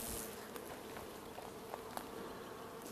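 Faint, steady buzzing of a rose chafer beetle deep inside a beehive among the frames, a low continuous drone with a few small ticks and no talk.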